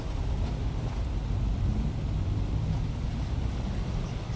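Waterfalls at an Elder Scrolls Online player house, a steady dense rushing roar of falling water, constant and unbroken with no talking.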